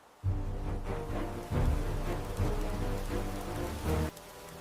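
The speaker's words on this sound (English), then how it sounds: "The storm passes." Steady rain pours down in a thunderstorm, a dense close patter on surfaces with low rumbling swells that rise and fall several times before the sound drops away abruptly.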